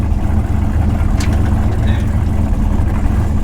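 A car engine rumbles loudly and steadily on a first road test drive, with a brief rise as the automatic transmission shifts, the low drone continuing throughout without talk.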